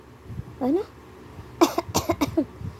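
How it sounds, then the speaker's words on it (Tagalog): A child gives a few short, breathy coughs in a quick burst, after a brief vocal sound; a quiet room around them. "Paano mag-ubo yung baby?"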